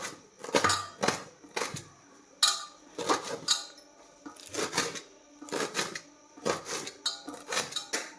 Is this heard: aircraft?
no